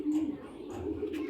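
A racing pigeon coos nearby in soft, low warbling phrases, with a few faint rustles and brief clicks alongside.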